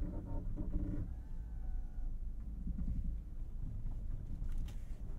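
A 2022 Lexus LX 600 off-road with turn assist dragging the inner wheel, a steady low rumble and grinding drone under wind noise inside the cabin, with a brief whining tone early on.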